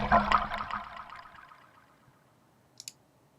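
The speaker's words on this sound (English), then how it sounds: "That initial like little burst of water sounds really nice." A short burst of splashing water that quickly fades into a trickle, followed by a couple of faint clicks near the end.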